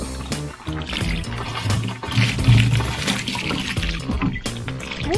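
Water pouring and splashing steadily into a chicken waterer on a hot day, close and continuous for several seconds with a low rushing churn.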